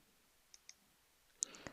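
A few mouse clicks while saving settings in OSIsoft PI security software: two faint, crisp clicks, a pause, then a sharper, closer pair near the end, with no talk.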